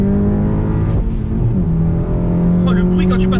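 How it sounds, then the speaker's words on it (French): A Volkswagen Golf 7 GTI engine drones loud and close, its steady pitch briefly dropping and then climbing again as it shifts gears, with a faint voice in the background. "Oh le bruit quand tu passes des rapports."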